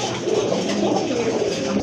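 A racer pigeon coos softly and repeatedly at close range, a low throaty rolling call that runs on steadily with no talk over it.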